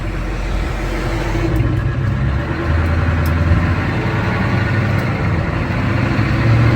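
A dump truck rumbles past outdoors, a steady loud low engine drone that holds throughout with no voices, swelling slightly toward the end.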